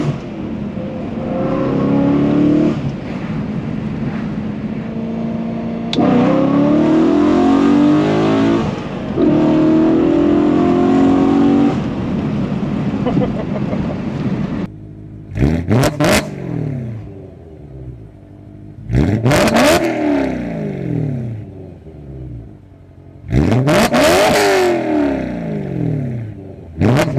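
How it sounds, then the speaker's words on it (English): A Mercedes S65 fitted with an aftermarket exhaust roars loudly for about fifteen seconds, then gives three sharp, separate revs that climb and fall back. Each rev is followed by a pause, and no voices are heard. "This car sounds so good."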